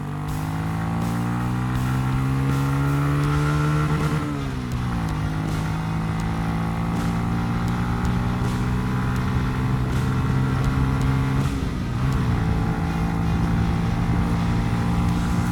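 A Honda CB125F 125cc five-gear motorcycle accelerates hard on a road test, its engine droning loudly and rising in pitch through each gear, with two distinct dips around shifts before climbing again steadily.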